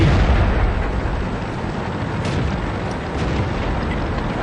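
A tank takes a shell hit in the World of Tanks video game. A loud, dense blast of booming noise opens, then a sustained rumbling roar carries on, with no voices.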